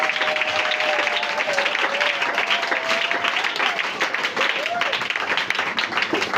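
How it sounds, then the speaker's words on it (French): Loud, dense applause from a church congregation fills the whole stretch without a break, with a sustained musical tone running faintly underneath. "Si c'est Jésus qui est ressuscité, acclame très fort pour l'Éternel."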